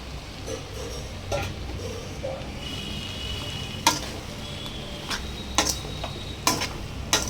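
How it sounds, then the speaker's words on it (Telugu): Puffed rice (borugulu) being stirred into a hot fried tempering in a pan, with scattered sharp scraping and clinking ticks of a spoon against the pan over a steady low sizzle. "ఇందులోకి ముందుగా ఆన్బెట్ పెట్టుకున్నాం బొరుగులు యాడ్ చేసుకొని బాగా మిక్స్ చేసేసుకుందాం"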